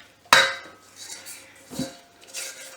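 A spatula scrapes banana bread muffin batter around a mixing bowl, starting with one sharp knock against the rim and followed by softer scraping strokes and a second dull tap, close and with no talking.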